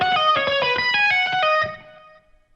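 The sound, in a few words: electric guitar tapping solo phrase, second section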